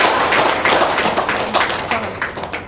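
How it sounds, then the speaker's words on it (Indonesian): An audience claps together in a loud, dense burst of applause that runs throughout and tapers slightly toward the end. "Tepuk tangan dong"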